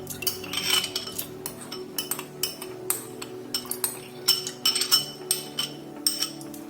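Tur dal tipped into a metal cooking pot, a rapid series of clinking, rattling metallic taps of utensil against pot, close and moderately loud, with no talk.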